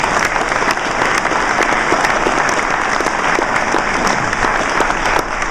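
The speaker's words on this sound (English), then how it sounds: "Let's all give ourselves a bit of a round of applause for what we did manage to achieve." Sustained audience applause fills a reminiscence gathering, a dense steady wash of many hands clapping close and loud without pause and with no voices on top.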